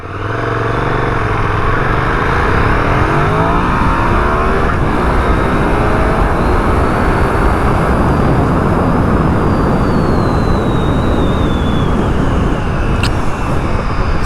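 A bike ridden outdoors gives a loud, constant engine-like roar with heavy rumble and wind noise, steady throughout with no pauses. A faint rising whine passes over the middle, and there is no talk.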